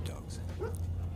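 Dogs bark faintly in the distance over a steady low hum, with one brief yelp standing out near the middle.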